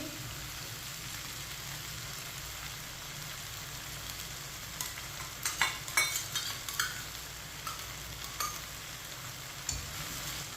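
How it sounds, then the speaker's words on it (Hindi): Macaroni tossed with ketchup in a pan, a quiet steady sizzle under bursts of spoon scraping and stirring in the middle, with no voices. "केचप डाल के मिक्स कर लेंगे"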